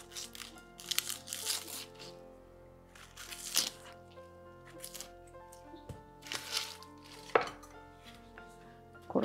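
A knife chops an onion on a cutting board for a carrot soup, giving several clusters of quick, crisp cuts close up, with soft background music playing underneath.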